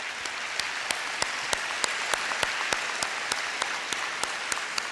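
An audience applauds for the central administration staff at a school district convocation, a steady dense wash of clapping with a few sharper individual claps standing out, sustained for several seconds.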